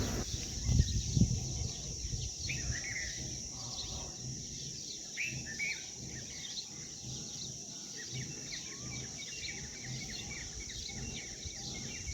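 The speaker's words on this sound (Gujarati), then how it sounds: "સવારનું શાંત વાતાવરણ, એમાં ચકલાનો અવાજ સાંભળો એકવાર તમે" Sparrows chirp softly and steadily in the distance in the morning over a constant high insect-like hum in a calm outdoor setting.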